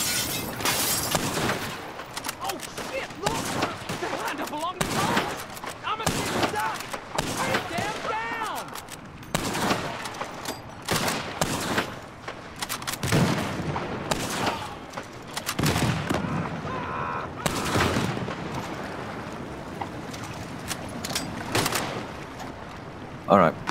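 Gunfire in Red Dead Redemption 2 Online during a Come Hell, Come High Water mission: repeated sharp shots and bursts crackle irregularly throughout, fairly loud, mixed with voices talking over the action.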